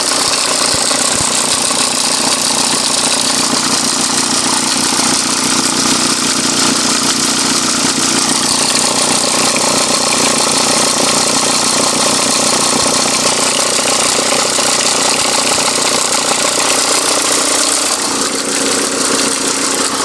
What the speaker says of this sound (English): I just wanted to show you that noise before I change the belt tensioner.